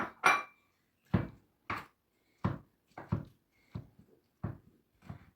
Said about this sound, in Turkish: Zeytinlerimizi de ince ince doğrayalım